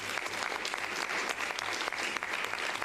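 Sustained, dense applause from an audience in the European Parliament, many hands clapping at once in a steady roar that stays even throughout, heard from some distance at moderate level.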